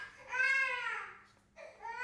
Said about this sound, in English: if you hear a crying baby